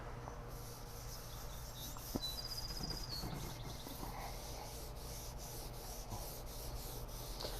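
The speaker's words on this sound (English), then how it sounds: "you just want to scrub, add a little bit more" Steady abrasive scrubbing against the black soot inside a Gozney Dome pizza oven, a continuous close rubbing texture with a few brief scrapes and no talk.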